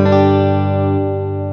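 A single sustained chord rings from an electric guitar with the neck pickup in humbucker mode and the bridge pickup in single-coil mode, played through a Fender-style amp tone, loud and slowly decaying over under two seconds.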